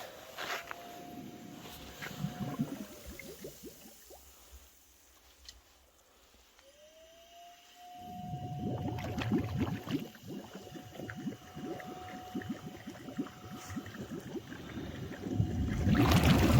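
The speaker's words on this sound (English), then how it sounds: "You can hear it sort of taking off there and see the bubbles coming on." Water churning and bubbling steadily in a large 2600-gallon concrete hot tub with 32 jets and an air blower, a motor whine rising as the jets start, dropping to a quieter lull and then surging back to full bubbling.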